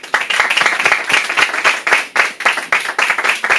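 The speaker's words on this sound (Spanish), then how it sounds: "Un fuerte aplauso." An audience applauds at an academic talk with dense, steady clapping that keeps an even pace throughout and carries no voices.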